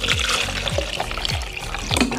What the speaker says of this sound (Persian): 350 میلی لیتر توش آب میریزیم